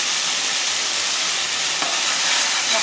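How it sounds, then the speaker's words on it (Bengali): Garlic, cumin and dried chili paste with salt and turmeric frying in a pan, a loud, close, continuous broadband sizzle that holds steady throughout. "মশলাটাকে ভালো করে ভেজে নেব।"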